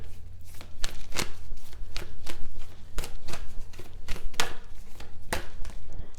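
Oracle cards from an Ancestor Spirit deck being shuffled by hand, a close, continuous run of crisp riffling slaps and flicks in an uneven rhythm, with no talking.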